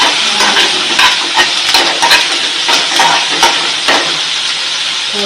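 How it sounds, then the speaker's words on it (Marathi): Vegetables and chilli frying in ghee over a medium gas flame, a loud continuous sizzle broken by frequent sharp clinks and scrapes of a utensil stirring against the pan. "मिडियम गॅसवर सगळं फ्राय करून घ्यायचं तुपामध्ये."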